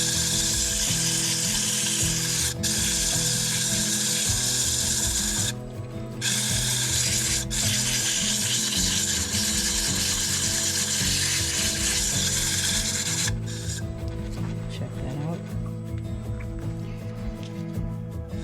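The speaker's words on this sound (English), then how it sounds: "I'm going to turn it up a little bit, speed-wise. So now it's at about 500 RPM." A wood lathe spinning a bowl at about 500 RPM gives a continuous dense whirring and rattling hum, steady and close, with brief dips where the rubbing sound stops.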